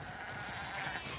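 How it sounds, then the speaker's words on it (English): Sheep bleating in The Last of Us Part II, a steady, moderately loud bleat with a broad, noisy texture held through the whole short moment, with no speech. "We definitely have way too many sheep."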